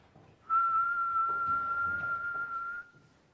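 A single steady whistled tone from a person, held for about two seconds, fairly clear against a quiet background.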